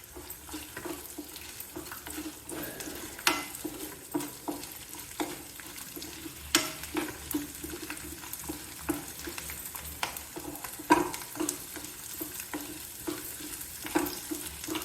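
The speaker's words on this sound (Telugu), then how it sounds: "జీలకర్ర వేస్తున్నానండి" Cumin seeds crackle and sizzle in hot oil, a constant close frying hiss broken by scattered sharp pops and light stirring scrapes.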